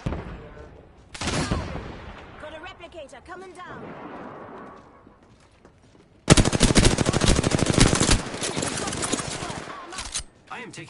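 Gunfire in the video game Apex Legends comes as loud bursts of rapid automatic shots, with a brief burst early and a sustained volley later, mixed with other game effects.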